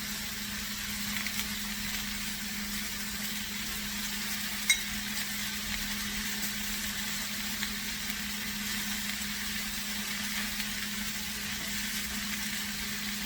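Vegetables for a ratatouille with thyme and oregano sizzling and frying in a pan, a steady quiet hiss with faint stirring, no talking.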